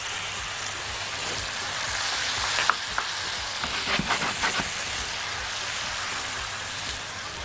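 Tomatoes frying in a hot pan, a steady dense sizzle with crackles and spitting pops throughout, close and fairly loud, no talking.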